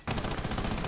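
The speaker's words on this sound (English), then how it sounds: "I forgot to stop firing." Sustained automatic gunfire from a weapon in Rainbow Six Siege, a rapid, loud, unbroken burst of shots kicking in abruptly and continuing to the end.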